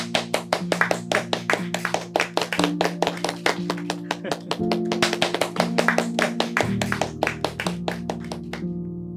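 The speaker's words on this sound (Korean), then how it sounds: "자, 박수." Office coworkers clap hands to welcome a new employee, a brisk run of sharp, distinct claps close by, with a musical tone underneath.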